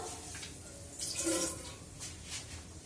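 A little water is poured into a pot of semolina cooking with milk, a brief, quiet splash and trickle in the middle of soft kitchen background noise.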